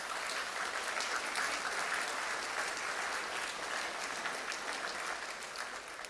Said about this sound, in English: Father, that applause is for you.